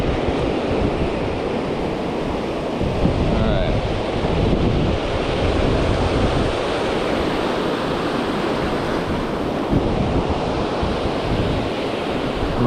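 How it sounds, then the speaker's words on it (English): Ocean surf breaks continuously on the beach at Seaside, Oregon, a loud, broad roar of crashing waves with wind buffeting the microphone, close and enveloping throughout. "Every 5 or 6 waves ends up at my chest."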